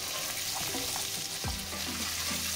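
Whole peeled and degermed vegetables sauté in a pan for beef bourguignon, with a dense continuous sizzle and light stirring clinks close by.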